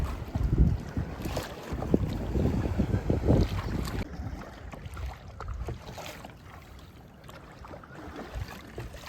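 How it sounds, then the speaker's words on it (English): A kayak is paddled on the water off Antigua during a hurricane, with rhythmic splashing paddle strokes and water swishing close by under gusty wind noise against the microphone. "We are out here kayaking."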